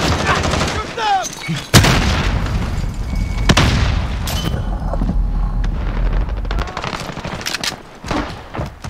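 Video game warzone combat: heavy bursts of automatic gunfire and booming blasts fill the whole stretch, loud and close, with a sharp explosive crack near the start and another midway, and shouted voices briefly underneath.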